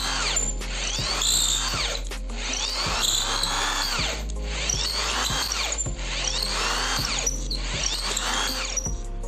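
A power drill bores into hard wood, its motor whining and straining loudly up close in a series of repeated bursts, with no talking.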